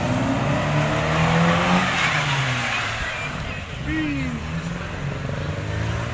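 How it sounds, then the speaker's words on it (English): Stunt cars in an arena show at the British Motor Museum, Gaydon, with engines revving and tires squealing through skids, J-turns and handbrake turns, loud and close with rising and falling engine pitch. "The other two making good use of the handbrake there."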